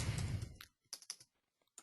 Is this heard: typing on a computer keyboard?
yes